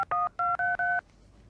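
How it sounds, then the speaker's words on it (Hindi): Telephone keypad tones sound as a number is dialed, five crisp beeps in quick succession, close and clear, followed by quiet. "अपन वो अन्ना को फोन लगाएगा।"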